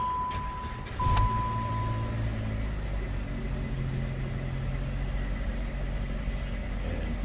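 A car engine idles steadily after a locksmith job, a low continuous hum with a brief click near the start and no talk over it.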